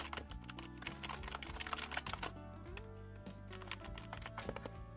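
Typing on an HXSJ V200 RGB gaming keyboard, a wired USB Type-C board with LED backlighting, a 68-key layout and linear-feeling switches, with steady rapid keystrokes over a continuous background of music.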